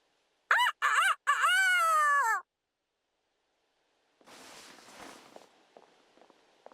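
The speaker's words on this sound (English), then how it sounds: "Time to break out my rooster impression!" A character in the Fire Emblem Engage video game does a vocal rooster impression, a loud crowing voice in a few drawn-out rising and falling bursts. After a pause comes quieter rustling with light footsteps.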